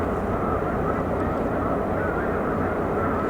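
A huge flock of snow geese on Cayuga Lake makes a dense, steady roar of overlapping honks, heard from a distance as a continuous wash of sound.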